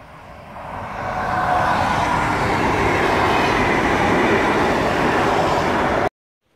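A train rolls past on tracks beside a road in Norway, its rumble swelling over the first second into a loud, steady roar of wheels on rail before cutting off abruptly.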